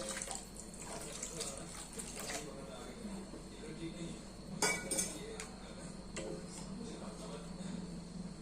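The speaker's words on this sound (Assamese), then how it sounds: "ইয়াত পানী দিম।" Water is poured into a cooking pan on the stove for a vegetarian shahi paneer, a close, steady splashing wash with a few metallic clinks of utensils, loudest in one brief burst midway, while a voice talks faintly underneath.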